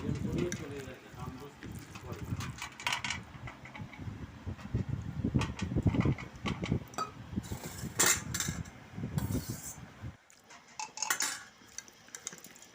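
Dishes and cutlery clink and scrape as rice is served onto a Bengali thali plate alongside fried potatoes and katla fish, with a voice talking over most of the clatter before a quieter tail.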